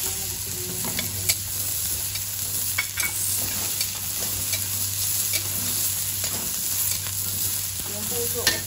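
Garlic sizzles steadily as it is stir-fried in a pan, a loud, constant frying hiss with faint clicks and taps from the utensil.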